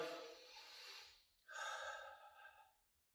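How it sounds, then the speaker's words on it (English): A deep breath, drawn in slowly and audibly close to the microphone, then a second long airy breath released after a short pause. It is quiet and alone, with no speech. "So you inhale."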